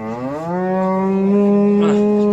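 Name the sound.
cow mooing at a livestock market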